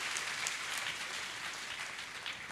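Audience applause at a motivational session for JEE/NEET aspirants, a steady wash of many hands clapping that fills the whole stretch at moderate loudness, with no talking over it.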